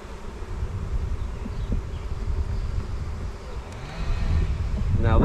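A steady, low droning hum of buzzing honeybees fills the clip, with faint wind noise and a brief higher whine near the end.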